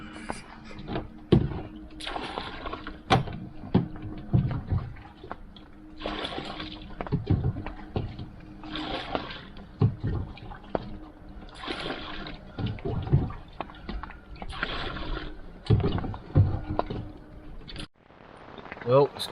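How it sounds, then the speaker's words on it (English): Rainwater bailed from a fishing boat on a lake in November rain: repeated scooping splashes and pours at a steady, uneven rhythm, close by, over a background of light rain and occasional knocks. "Bailing the boat out time."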